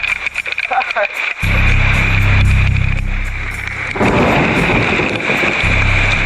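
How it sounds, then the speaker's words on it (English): Heavy rain pours down in the Amazon with a deep rumbling swell like thunder, loud and continuous, with a voice briefly speaking at the start. "The monotonous rhythm of pounding rain"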